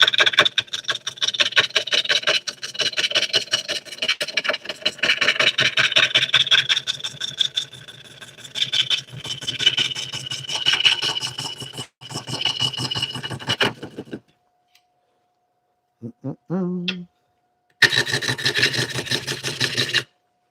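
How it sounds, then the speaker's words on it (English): A wood turning gouge cutting on a lathe, producing a continuous rough rasping scrape with rhythmic pulses, close and loud, broken by a short pause with a faint hum and a brief voice before cutting resumes. "I'm trying to follow the bevel on the gouge in order to make it smoother."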